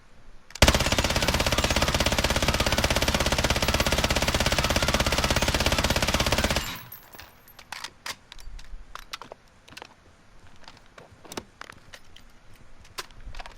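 Light machine gun in Call of Duty Warzone fires one sustained, loud, dense automatic burst lasting about six seconds, then stops abruptly, leaving quieter clicks and handling noises.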